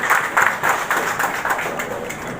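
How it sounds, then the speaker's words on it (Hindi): Loud audience applause at the inauguration of an NGO diagnostic centre, with clustered bursts of clapping pulsing unevenly before thinning out near the end. "तो बहुत जोरदार तालियां सब लोग बजा रहे हैं,"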